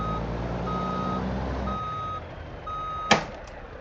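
A truck in the BeamNG driving game gives steady, evenly spaced reversing beeps while backing into a parking spot over a low engine rumble. A short, sharp hiss like an air brake sounds near the end.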